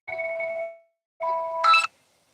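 An electronic telephone ring sounds in two bursts separated by a short gap, clear tonal chirps heard alone in an indoor livestream setting, the second burst ending with a brighter, louder trill.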